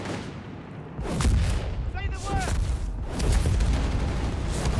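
Mortar rounds land in Company of Heroes 3 during a match between the Afrika Korps and US Forces, giving a few dull booming blasts. Steady commentary talk runs over them throughout.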